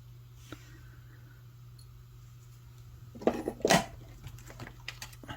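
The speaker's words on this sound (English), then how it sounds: "Now I'm going to take my cutters and cut off my extra wire." Wire cutters snip off extra beading wire on a chandelier pendant necklace, giving a short cluster of sharp metallic clicks after a quiet stretch and then a few faint ticks.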